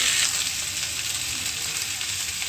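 Potato and cabbage fry in a pan over a low flame, giving a steady, dense sizzle that hisses evenly throughout without any voices.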